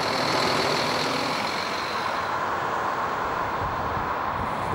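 A truck engine runs loud and close, pulling away with a steady, dense roar that holds evenly throughout, with no talk.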